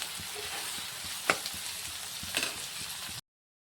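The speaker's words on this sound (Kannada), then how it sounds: "ಇದು ಒಂದು ಸ್ವಲ್ಪ ಫ್ರೈ ಆಗತ್ತೆ" Tomatoes and green chillies fry in a pan with a soft, continuous sizzle, broken by a couple of sharp utensil clicks, before the sound cuts off abruptly near the end.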